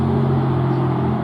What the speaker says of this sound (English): Excuse the noise of the traffic, it's now the rush hour at the other end of the day.